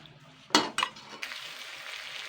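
Cumin powder and jaggery lightly frying in a pan, with two sharp clinks of a spoon against the pan followed by a soft, steady sizzle.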